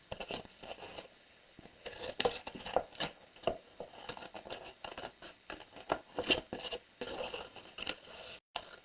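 Scissors snip around the edge of a paper flower cut-out at a craft table, a close series of short, irregular cutting and rustling sounds at low volume.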